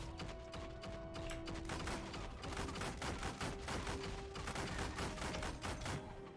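Dense, rapid bursts of turret fire and gunshots mixed with mechanical clatter in the Wolcen: Lords of Mayhem video game, continuous and rhythmic at a moderate, slightly distant level, no speech.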